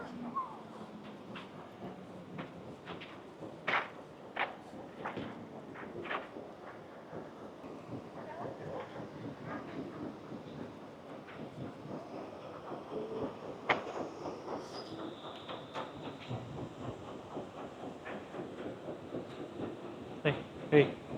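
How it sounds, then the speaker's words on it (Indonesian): An old steam-powered ferry engine on Lake Thun in Switzerland rumbles and chugs steadily, train-like, with scattered knocks and clanks, while people talk nearby. "Ferry ini termasuk ferry yang jadul ya, tapi ikonik karena dia masih menggunakan uap, ada steamnya."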